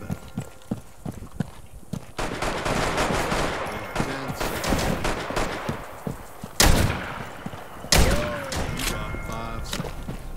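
Rapid gunfire in Rainbow Six Siege, a dense burst of shots with two sharp, louder reports standing out, carried along under faint talk.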